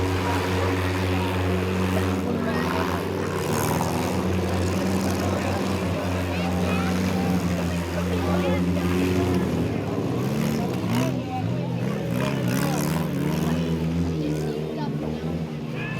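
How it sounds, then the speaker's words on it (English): A Pontiac Sunfire race car engine drones loud and steady through a full contact race, its low harmonic roar running continuously over the whole stretch, with commentary spoken over it. "you can hear that sweet Pontiac Sunfire engine still sounds mighty strong"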